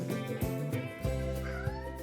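A pet cat meows repeatedly close by, a string of drawn-out, tonal cries with short breaks between them, loud and clear with no talking over them.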